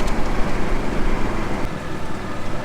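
Dense, steady road traffic noise rolls along a main street in The Villages, Florida, a close and continuous roar with no voices.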